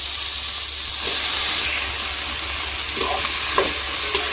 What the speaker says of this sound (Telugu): ఈ ఆయిల్లో ఫ్రై చేసుకోవాలండి